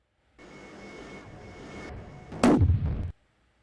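In the Strike Fighters combat flight game, a missile launches with a steady roaring rush, then a sharp loud blast and burst of roaring thrust before cutting off abruptly.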